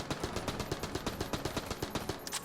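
Fully automatic AK rifle firing in Enter the Gungeon, a steady rapid stream of evenly spaced shots, around a dozen per second, continuing without pause throughout, fairly close and moderately loud.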